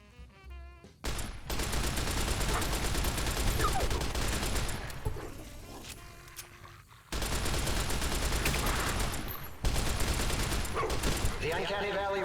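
A newly picked-up gun fires in Fallout New Vegas: two long sustained bursts of rapid shots, loud and close, split by a short lull.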